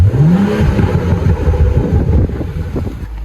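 A BMW F22 M235i rear-wheel-drive coupe revs its engine, a rising surge of exhaust tone followed by a rumbling, burbling settle, loud and close with some wind noise.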